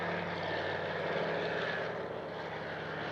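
A propeller aircraft drones steadily at the RAF Cosford airshow, a loud continuous engine hum with no break for three seconds.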